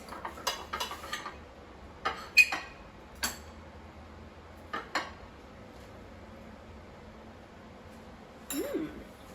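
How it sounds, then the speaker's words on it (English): Cutlery scraping and tapping on a plate while cutting an air-fried Beyond Burger, a series of sharp close clinks and clicks spaced irregularly over a quiet background, with a brief squeak near the end. "And now let me just cut a piece and try it."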